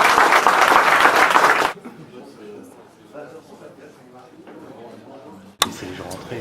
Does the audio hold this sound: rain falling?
no